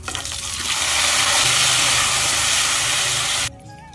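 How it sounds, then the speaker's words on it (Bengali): Pieces of stingray fish fry in hot oil in a pan, giving a loud, steady, close sizzle and hiss that swells and holds for a few seconds before cutting off abruptly. "বাকি মাছগুলো ভাইজে নেবো"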